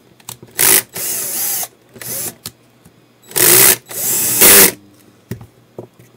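A power screwdriver whirs in short bursts as it drives screws into plastic standoffs on a main board of an HME wireless headset base station, several loud close runs of a second or so each, separated by pauses, with no talk.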